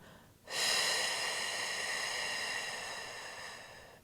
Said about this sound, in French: c'est des exercices de respiration pour engager tous les muscles profonds. Inspire et expire.